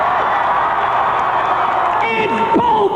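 A concert crowd at a packed show cheering loudly and steadily, a dense roar of voices with whoops rising near the end.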